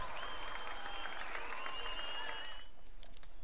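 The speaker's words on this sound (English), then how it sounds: "And the crowd goes wild." Crowd cheering and applause from the Fortnite video game, a loud, dense clapping roar with bright whistle-like tones, heard alone, stopping abruptly near the end.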